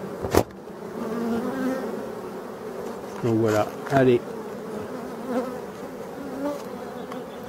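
Steady insect buzzing of many black honeybees in a forest in Brittany fills the background, with a few closer passes droning louder; someone speaks briefly in French at the start.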